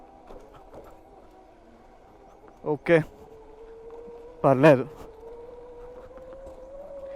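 An Ather 450X Gen3 electric scooter with over 10,000 km on it, riding in economy mode, gives off a steady, fairly faint motor whine that climbs slightly in pitch near the end, with two short bursts of speech over it.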